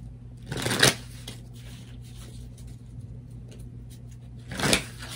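Tarot cards are handled and shuffled in two crisp bursts of riffling, one at the start and one near the end, close and moderately loud over a steady low hum.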